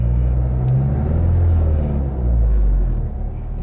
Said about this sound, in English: A little bit of decel vibes there, you can hear that